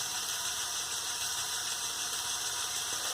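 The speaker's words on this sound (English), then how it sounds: "Here is the model driving in first gear." Lego Technic Ford Bronco model driven in first gear by two Power Functions large motors, with an inline four-piston engine turning over; a steady whirring motor drone, close and continuous, with no speech.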